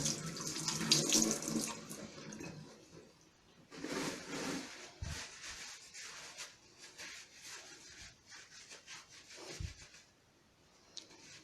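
Tap water runs steadily into a sink as hands are rinsed, splashing close by with shifting intensity and a few soft knocks against the basin.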